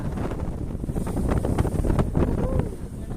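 Strong sea wind gusting across a beach microphone during the windy Aadi month, a loud continuous rumbling roar with surging buffets, with sea spray in the air.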